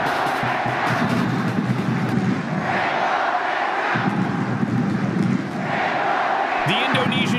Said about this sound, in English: The Indonesian fans at the North Sumatra main stadium continued to cheer